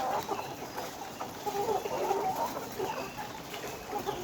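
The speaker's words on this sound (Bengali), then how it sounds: "মুরগিগুলো খাবার অনেক ভালো খাচ্ছে" Layer hens cluck steadily in a group while feeding, overlapping soft clucks and murmurs close by, with a constant farmyard hum underneath.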